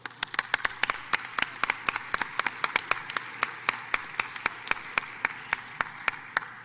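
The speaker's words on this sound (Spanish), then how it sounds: "todos quienes estamos aquí en el Pleno podamos brindarles un caluroso aplauso" Applause in a parliamentary plenary chamber during a session debate on an elderly persons' law: a steady run of sharp, fairly close claps that repeats quickly and evenly, with a thin crowd wash behind it and no talking.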